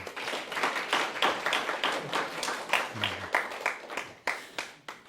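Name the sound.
applause welcoming a guest at a church service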